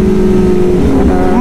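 A Kawasaki ZX10R BS6 superbike engine roars loud and close with a steady high-pitched tone that rises as the throttle opens.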